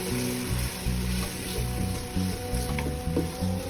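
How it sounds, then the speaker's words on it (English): Ingredients sizzle and fry in a pot for Nigerian okra soup, a steady close crackle that runs the whole time over faint tonal background music. "Now this has been frying for 2 minutes."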